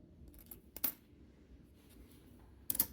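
Old coins, including a 1948 Philadelphia piece, being handled and dropped during a nickel hunt: two quiet clusters of bright metallic clinks against near silence, close by.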